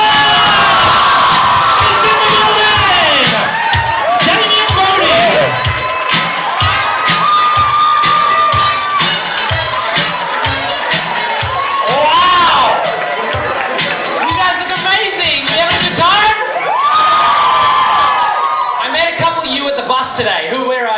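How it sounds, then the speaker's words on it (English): A lively crowd at a live event erupts in cheering, whoops and shouts as a performer named Dylan Timmer comes out, loud and sustained, with an announcer's voice and excited yelling mixed in. "A big round of applause to Dylan Timmer!"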